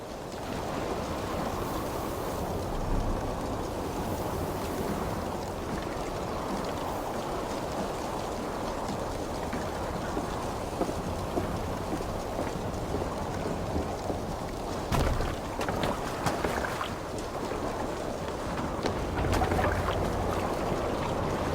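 A storm at sea in Assassin's Creed Valhalla, with steady rain, wind and surging waves around a boat forming a continuous dense roar, punctuated by a few louder splashes and gusts.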